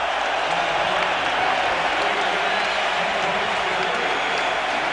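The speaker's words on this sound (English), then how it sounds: "Even the England supporters, not all of them, are standing and applauding the Welsh team" A rugby stadium crowd at a 2003 Rugby Union quarter-final between England and Wales in Brisbane applauds in a continuous, dense roar of clapping and cheering, loud and sustained throughout.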